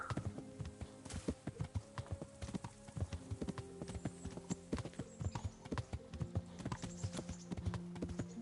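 A horse gallops in the Kingdom Come: Deliverance video game, its hooves drumming a steady, rapid clip-clop rhythm throughout, fairly close but quiet, with no talking.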